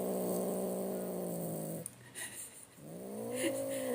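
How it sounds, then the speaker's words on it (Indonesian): A grumpy cat gives a long, drawn-out growling yowl, pauses briefly, then rises into another whining caterwaul, heard close and fairly loud. "mau lihat nggak guys judesnya guys, biar kalian tahu nih ada kucing judes banget nih"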